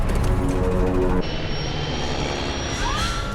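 Loud, steady airplane engine roar with a high whining tone as the plane enters an aerodynamic stall near Buffalo, New York, shifting character partway through and a rising whine near the end.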